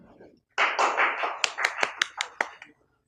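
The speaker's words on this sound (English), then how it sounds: "everybody please give a round of applause for Dr. Nadeem." A small audience at a medical workshop in a hospital claps briefly, a soft patter followed by a handful of distinct separate claps that quickly die away, with quiet room sound before.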